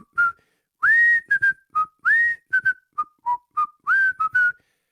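Someone whistles a short, lively tune in a parking lot, the clear, close notes coming in quick separate bursts with rising slides and brief gaps, and no talking.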